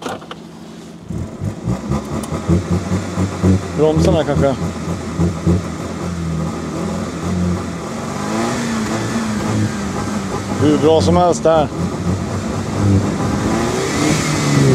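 A car engine revs and surges while the vehicle is stuck, rising and falling under nearby speech for most of the stretch.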